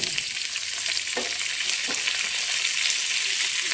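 Tamarind frying in a pan for chutney, a loud, close, continuous sizzle with faint stirring and no talk.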